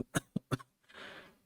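A person coughs three times in quick succession, sharp and close, followed by a softer breathy rasp as the fit trails off.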